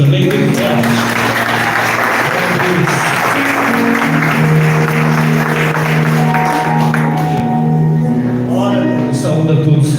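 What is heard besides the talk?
congregation applauding in church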